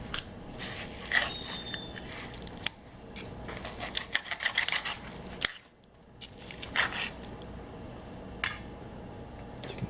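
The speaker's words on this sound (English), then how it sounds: "I'm going to cut into the steak here." A knife saws through a sous vide steak in short scraping strokes, close and moderately loud, with brief pauses between cuts and no talking.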